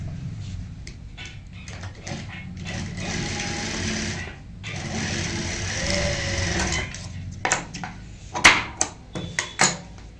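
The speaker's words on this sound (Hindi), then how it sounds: "यहाँ पे अंदर की साइड ऐसे डालते हैं और यहाँ पे स्टिच कर लेते हैं।" An electric sewing machine stitches a lace neckline, running in steady whirring bursts with brief stops, then a few sharp clicks and knocks as the fabric is adjusted, close and fairly loud with no voices.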